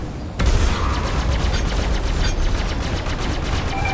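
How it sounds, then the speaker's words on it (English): A Star Citizen ship's missile launch: a sudden loud onset followed by a sustained, rapidly pulsing mechanical rattle and whoosh that holds steady for several seconds, up close. "Lock missile. Locking target. Launch missile."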